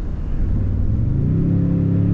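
A 2022 Toyota Tundra pickup accelerates, its engine a loud, close rumble with a drone that climbs steadily in pitch, heard from inside the cab with no talking.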